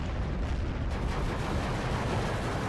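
IS-2 tanks fire HE shells during a Steel Division 2 battle, giving dense rumbling gunfire and blasts with no clear pauses.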